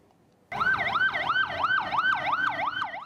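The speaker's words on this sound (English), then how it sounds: "An ambulance rushes to Karachi's largest morgue." An ambulance siren in the city of Karachi starts abruptly and wails in rapid, regular rising-and-falling sweeps, loud and close, with no talk over it.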